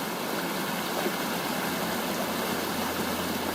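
A stream flows over rocks in Rich Gulch, a steady, unbroken rush of water heard alone at moderate volume, with no voices.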